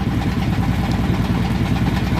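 A small hired boat's engine drones steadily and loudly close by on a trip to see a coconut plantation, a continuous rumbling throb with no voices.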